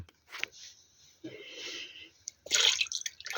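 Water, 200 grams measured in two cups, is poured for pumpkin bread dough, giving soft splashing and trickling in a couple of short bursts, close by and moderately quiet.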